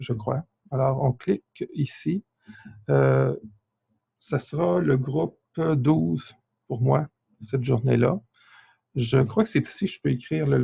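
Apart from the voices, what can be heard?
No distinct noise like a dog, phone or traffic.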